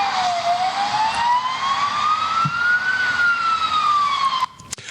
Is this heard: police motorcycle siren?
yes